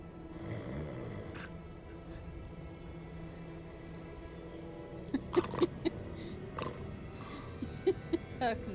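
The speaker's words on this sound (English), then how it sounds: "I see him snoring." A character snoring in the video game Hogwarts Legacy, slow rasping breaths with sharper snorts clustered toward the end, quiet against soft background sound.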